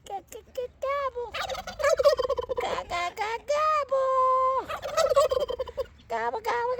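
A turkey gobbles loudly and close by in several rapid warbling bursts, with short pauses between the calls.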